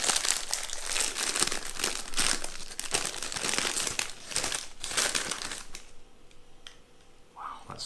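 A pickled onion flavour crisp packet holding alien-shaped corn puffs is torn open. The plastic crinkles and crackles close up for several seconds before it quiets, with no talking.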